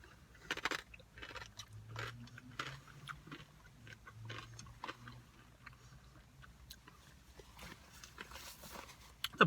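Close-up crunchy chewing of crunchy barbecue snack mix from a military ration, irregular bites and crunches over several seconds, fairly quiet with a faint low hum beneath.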